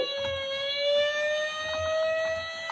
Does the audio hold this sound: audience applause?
no